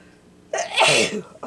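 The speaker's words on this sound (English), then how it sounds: "I'm gonna have to sneeze." A single loud sneeze from a woman at a crafting table, preceded by a faint sharp inhale and followed by a brief breathy sound, close to the microphone in a quiet room.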